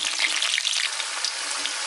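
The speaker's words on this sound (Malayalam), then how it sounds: "അപ്പോൾ നമുക്ക് ആദ്യം നമ്മുടെ പച്ചമുളകും കറിവേപ്പിലയും കൂടി ഒന്ന് ഫ്രൈ ചെയ്തു" Green chillies and curry leaves fry in hot oil, a loud, dense, continuous crackling sizzle with bright popping spits, close up and heard alone.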